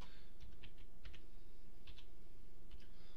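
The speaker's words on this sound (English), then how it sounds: "what you want to type in is default" Keys clack on a computer keyboard in short bursts of a few strokes each, close and clear over a steady low background hum, with no one talking.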